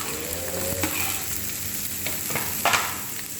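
Carrots tumble into a pot of dal frying for soup with chicken feet, setting off a steady sizzle with a few scraping stir strokes and a brief louder splash of hissing near the end, with no voices.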